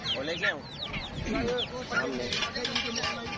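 A hen and chicks cluck and chirp over one another continuously, close by, with people talking in the background, at a bird and pet market in Korki, Sindh.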